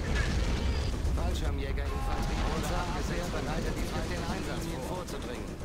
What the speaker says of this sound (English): Oh, it's the Calliope, it keeps shooting.